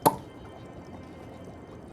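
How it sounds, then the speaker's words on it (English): A single short wet click, like a drip or light tap, marks putting on a thinking cap in the game Shadows Over Loathing, followed by faint low background noise. "That was the sound of putting on the thinking cap."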